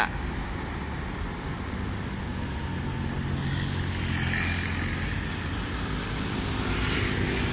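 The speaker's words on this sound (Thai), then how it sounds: "เป็นรถจากอัสตอมนะครับเครื่องยนต์แคทเทอร์พิลล่า" An Alstom diesel railcar with a Caterpillar engine drones steadily at a distance, a continuous low rumble that grows slightly louder as it approaches.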